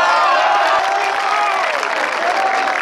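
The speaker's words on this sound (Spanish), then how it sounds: "Así que les pido un aplauso para todos" Sustained applause and cheering from a crowd honoring a sports team after a win, dense and loud throughout with a steady roar of clapping.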